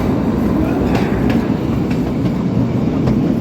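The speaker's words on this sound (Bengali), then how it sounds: "টানেলের মধ্যে যখন ট্রেনটা ঢুকছে" The Shivalik Express toy train to Shimla rumbles steadily along the rails as it enters a tunnel, a continuous loud low roar with faint clicking from the wheels, no voices.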